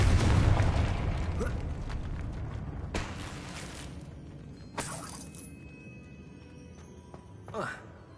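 An explosive Confringo spell bursts in the Hogwarts Legacy video game, a loud booming blast at the start followed by several sharper pops and crackling bursts over ongoing game sounds.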